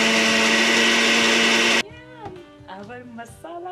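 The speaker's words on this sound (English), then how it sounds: "Now everything will go into the blender until it's smooth." A kitchen blender whirs loudly and steadily while blending mint masala buttermilk until smooth, then cuts off abruptly; a voice speaks briefly afterward.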